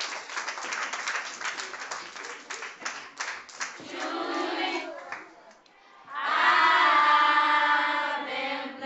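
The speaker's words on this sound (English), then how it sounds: "Now clap for the drama team." A school audience claps for a drama team, a burst of scattered applause that thins out, followed by shouting and cheering voices rising loudly near the end.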